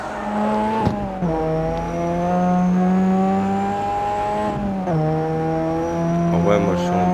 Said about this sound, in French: la voiture, elle est encore en mode drift